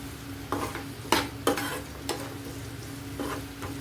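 Vegetables with tomato, onion, ginger and garlic being mashed and stirred in a frying pan for bread masala, with repeated scraping strokes over a steady low sizzle, close and moderately loud, no talking.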